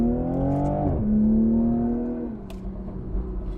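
A Toyota A90 Supra (Mk5) sports car engine revs loudly, pitch climbing, dropping sharply, then climbing again before settling into a lower idle-like drone.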